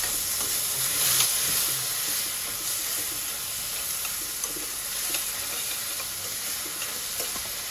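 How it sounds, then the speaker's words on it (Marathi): Rice sizzling and being stirred in hot ghee with cumin seeds in a pan, a steady close frying hiss with occasional scraping stirs, no talking. "तांदूळ आपण छान परतून घेऊया."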